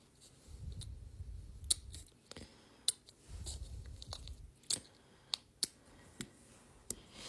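Small scissors snip a paper nail form, a series of crisp, faint clicks and snips spaced irregularly over a low background rumble, close up and with no talking.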